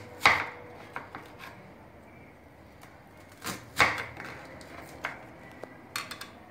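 A kitchen knife chops onions for baked meatballs with potatoes, several sharp thuds against a cutting board spaced irregularly, two strong hits then lighter taps, close and clear with no talk.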